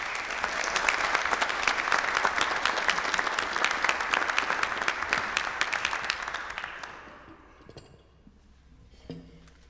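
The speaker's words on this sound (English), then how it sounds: "So let's all give Karen a round of applause, please." An audience at a Tuba Christmas concert applauds Karen, loud sustained clapping for about seven seconds that then dies away into a quiet room with a few stray sounds.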